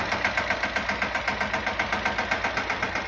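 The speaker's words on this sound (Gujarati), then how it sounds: "એને લાઈવ ટ્રેક્ટરમાં દીદી હકાવે છે" A tractor engine runs at a steady idle, close and fairly loud, with an even, rapid chugging pulse throughout and no talking.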